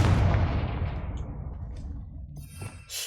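The Confringo spell from Hogwarts Legacy detonates as a loud, booming fiery blast that rumbles and fades over a few seconds, ending with a brief crackling burst of debris.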